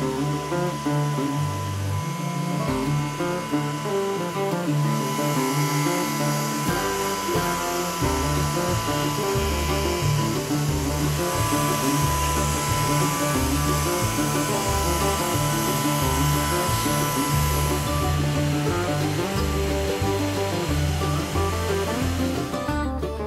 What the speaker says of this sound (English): the phenolic base and fence are precisely milled on a CNC